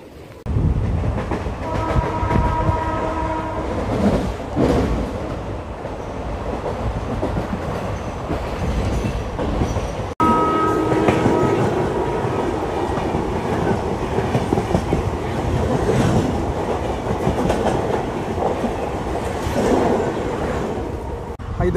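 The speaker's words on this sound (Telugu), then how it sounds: "లింగంపల్లి స్టేషన్ నుంచి కూడా మన ట్రైన్ అయితే బయలుదేరిపోయింది" The Palnadu Superfast Express pulls out of Lingampalli station with a loud, steady rumble and clatter of wheels on rails, and a short horn tone partway through.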